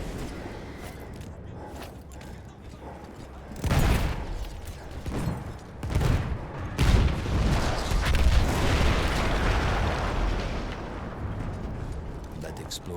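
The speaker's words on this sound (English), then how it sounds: "That explosion was one of the sweetest sights of the war for me." Artillery gun blown up in the Battlefield 1 war game: heavy booming blasts with rumbling debris, a big detonation near four seconds and another near seven, then a long roaring tail, loud and close.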